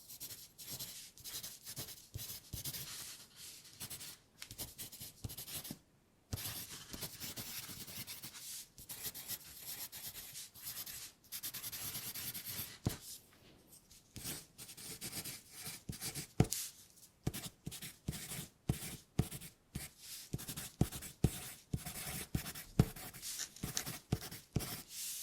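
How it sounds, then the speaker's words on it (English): Pen or pencil writing on paper as an ASMR trigger, a steady run of close, soft scratchy strokes with short pauses between words, heard alone with no talking. "I am going to do some writing sounds for you"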